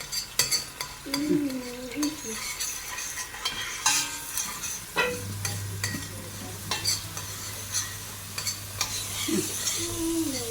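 An egg cooking in an oiled pan, a continuous soft sizzle with scraping stirs and clinks of utensil against cookware, close by and without talk.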